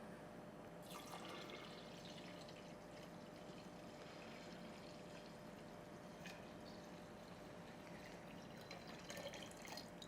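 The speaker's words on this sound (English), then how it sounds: "Now our liquid is room temperature, so I'm going to pour it into the Scoby." Room-temperature tea poured onto a kombucha scoby, a faint steady trickle and splash of liquid running throughout, close but quiet, with no talking.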